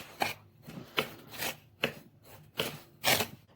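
Bread dough with anise and nigella seeds being mixed by hand for homemade matlou3 flatbread: about six rhythmic scraping, rubbing strokes arrive close and at an even pace, with no talk.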